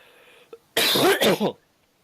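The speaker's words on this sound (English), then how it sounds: "Sorry about the cough." A single harsh cough from one person, close and loud, a burst of rough bursts lasting under a second after a brief quiet lead-in, then silence.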